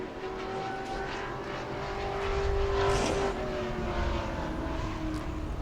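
A Sportsman race car on a qualifying lap at New Smyrna, the engine roaring loudly past with a steady droning tone that swells to a peak midway and then eases slightly as it carries on.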